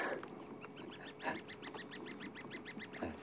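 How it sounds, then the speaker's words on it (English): A flock of red-billed buffalo weavers calling overhead on a sunset safari in Sabi Sand, giving a quick run of rhythmic, repeated nasal honking notes that comes through faint and distant. "Tweeting you can hear above us is a whole group of red-billed buffalo weavers."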